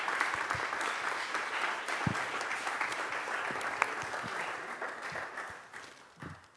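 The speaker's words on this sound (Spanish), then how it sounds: "Un aplauso para el autor." Sustained applause from an audience at a book presentation, steady clapping that fades out near the end.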